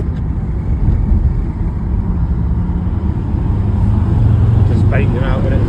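A rebuilt VW T4 van with a 2.5 ACV engine accelerates with a loud, steady, deep drone that swells slightly toward the end, and a voice briefly sounds over it.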